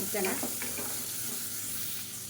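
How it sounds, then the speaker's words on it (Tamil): Chicken pieces being sautéed in a pan for a soup, giving a steady close sizzle and frying hiss with a few stirring scrapes near the start, fading slightly toward the end. "சேர்த்துட்டு நல்லா வதக்கி விட்டுக்கலாம்"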